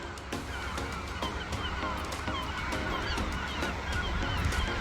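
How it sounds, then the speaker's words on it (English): Seabirds massed over the sea off the Whitby coast, a dense chorus of honking, squawking calls overlapping continuously, steady and fairly loud against a background wash of wind and water. "loads of birds"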